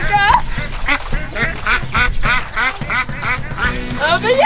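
Mother duck with her ducklings on a New Zealand homestead: repeated loud, close quacking in quick bursts throughout, with a person talking over it.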